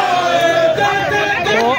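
A crowd of protesters fills a road during a street protest against riot police, producing a loud, dense babble of shouting voices close by without pause.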